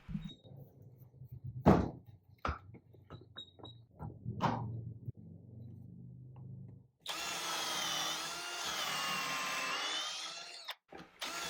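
A power drill drives 2.5-inch pocket screws into bunk bed wood, preceded by a series of knocks and clunks of handled lumber, then a loud steady whirring drive of several seconds ending with a short final burst, no talking.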